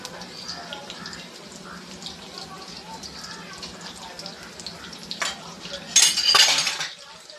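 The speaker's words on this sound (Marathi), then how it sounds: "एक एक असं सोडून फ्राय करून घेऊयात व्यवस्थित." Ridge gourd bhaji slices frying in a pan give off a steady sizzle under a voice, with a louder hiss and a clatter of utensils near the end.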